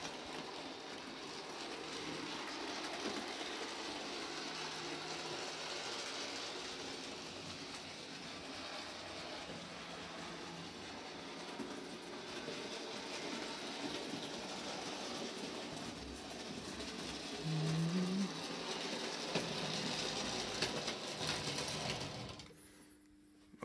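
A model railway engine runs along its track, a soft continuous rattling whir with faint clicking that holds steady and cuts off abruptly at the end.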